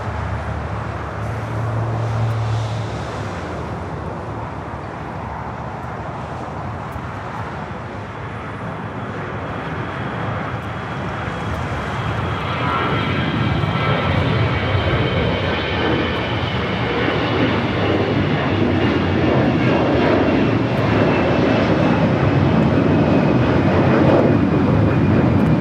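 An airliner bound for Cincinnati takes off on runway 25 right at Los Angeles International Airport, its broad engine roar building steadily and growing louder and fuller through the takeoff roll, with no voices.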